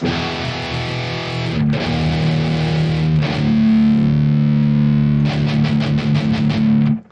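A distorted electric guitar, plugged directly into a computer running amp modeling software, plays sustained chords and single notes, thick and amp-like, loud and steady with no voices.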